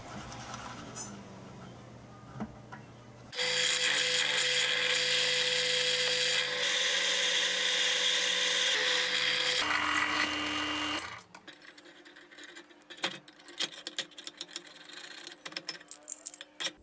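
A power drill with a 6.8 mm bit whines steadily through a metal C-clamp frame for several seconds, loud and close, then winds down, followed by scattered clinks and handling noises.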